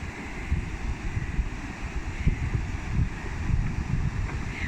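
Water pours steadily over a river weir, a continuous broad rushing roar running at an even level throughout, with no voices.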